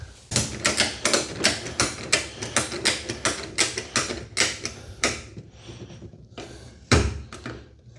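Ratchet straps crank tight on an OUTFITR power chair scooter lift carrier, with a steady run of sharp, close clicks for about five seconds, then a few slower, heavier clunks.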